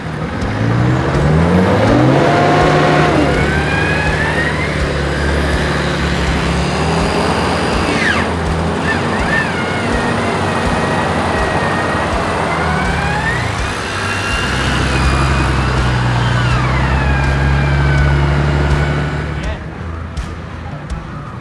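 A Nissan Patrol in two-wheel drive grinding along a jeep track after a storm, its engine droning and shifting pitch as it revs and labours, loud and close throughout.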